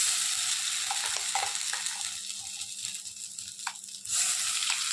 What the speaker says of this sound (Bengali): এই দেখুন তেলের মধ্যে দিয়ে আমি একটু এইভাবে ভেজে নিচ্ছি।